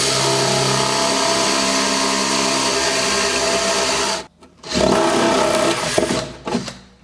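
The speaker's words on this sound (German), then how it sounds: "meine geliebten Pharmak-Bohrer, die verwenden wir jetzt mal wieder." A power drill with a Famag bit whines steadily at close range for several seconds, cuts out briefly, then revs again in shorter uneven bursts.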